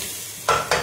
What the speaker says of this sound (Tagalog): Soy sauce lang ilagay natin.